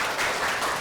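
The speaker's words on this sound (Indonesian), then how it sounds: "Oke, tepuk tangan." Applause at the close of a university pharmacognosy lecture, a brief, dense patter of hands clapping, steady and moderately loud with no speech over it.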